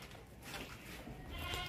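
Goat bleats at a sacrificial livestock market where black-nosed and white-nosed goats are on sale, the calls fairly close and set in a busy, noisy outdoor din with no clear speech.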